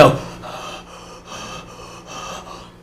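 A man imitates the deep, slow breathing of Michael Myers under his mask from the 1978 film Halloween. It comes as close, breathy rasps in a steady rhythm of about four in-and-out cycles, with no words.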